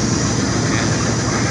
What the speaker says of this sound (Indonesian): Ini kereta api siap-siap akan berangkat dari stasiun Rangkas menuju Merak.